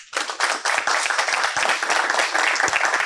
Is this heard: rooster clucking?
no